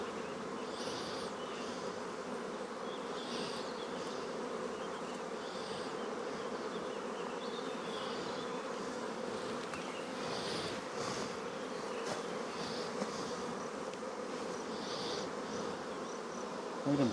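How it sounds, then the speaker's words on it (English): Honey bees buzz densely around a hive whose queen has failed, with fanning workers making a steady, continuous drone that holds at an even level throughout, no voices. "Too many bees to shake them out."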